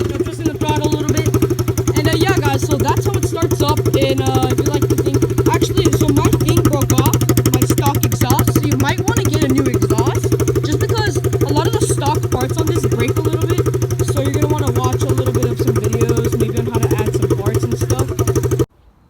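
A Coolster 125cc budget dirt bike runs steadily while the throttle is twisted slightly, a loud, close, buzzing single-cylinder drone held evenly for nearly twenty seconds before cutting off abruptly.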